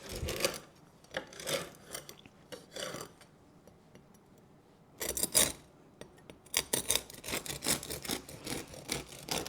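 A knife saws through a crispy fresh sourdough loaf of Friss dich dumm bread, with crackly rasping strokes in bursts, a pause, then faster repeated crunchy cuts close up.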